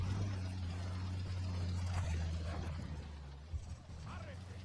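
A low, droning vehicle engine rumble in the video game Ghost Recon Wildlands, with a steady hum that fades after a few seconds and faint talking over it.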